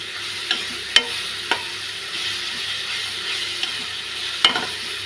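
Brinjal fries with ginger garlic paste in a pan, a steady bright sizzle punctuated by a few sharp clinks and scrapes of a spoon stirring, close and without talk.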